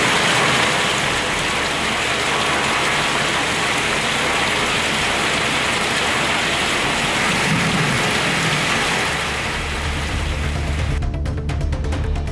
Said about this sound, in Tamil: இடியுடன் கூடிய கனமழை பெய்தது